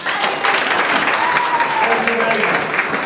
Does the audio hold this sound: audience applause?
yes